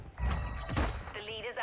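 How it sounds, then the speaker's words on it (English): Magazine change on the LA-B 330 'Shadow Lance' rifle in Call of Duty Modern Warfare II: a couple of close, solid mechanical thunks and clacks, with game voice chatter over the action. "Changing mag."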